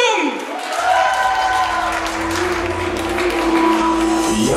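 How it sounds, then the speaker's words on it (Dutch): Festival crowd at Kasteel Festival 2022 applauding loudly and steadily, a dense wash of clapping and cheering that carries on throughout, with a music track and voices layered over it. "Geef ze nog een daverend applaus"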